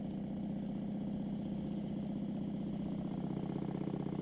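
An old Harley-Davidson motorcycle with home-made parts runs steadily on the road, its engine a continuous, loud, close-up throb with an even pulsing rhythm and no voices.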